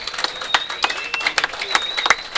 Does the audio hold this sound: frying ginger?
no